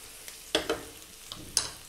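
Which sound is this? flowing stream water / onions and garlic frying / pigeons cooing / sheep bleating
onions and garlic frying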